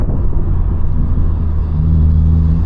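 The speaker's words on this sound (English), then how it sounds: "And then you can definitely hear the burls now, traction off." BMW G80 M3 idling or cruising with traction control off, a steady deep low rumble of exhaust burble, loud and close, continuous with no voices.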